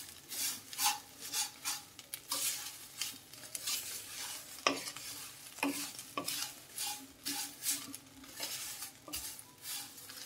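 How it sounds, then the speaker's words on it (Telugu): Curry leaves crackle and sizzle in hot oil in a pan for a curry leaf pickle, with a spatula scraping through them in steady repeated strokes, close and fairly loud. "కరివేపాకు కూడా ఫ్రై అయిపోతుందండి."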